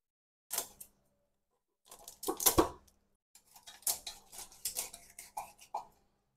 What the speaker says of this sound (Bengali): চলেন মাছটা কাটি।